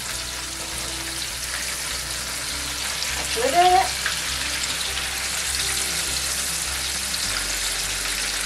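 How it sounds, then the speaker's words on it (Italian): Fried appetizers sizzling in hot oil until golden, a steady broadband crackle and hiss that runs throughout at moderate level, with a short brief voice speaking near the middle. "Li ho fatti friggere fino a doratura."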